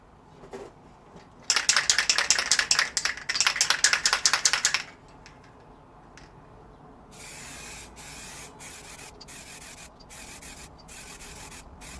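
Short bursts of aerosol spray paint silver onto a Yamaha DT front fork during a DTR 125 restoration. Dense hissing puffs come up close and loud, followed by quieter spaced bursts.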